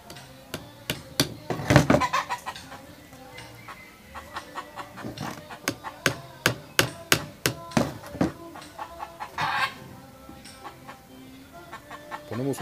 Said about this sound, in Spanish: la primera tabla donde vamos a empezar a martillar.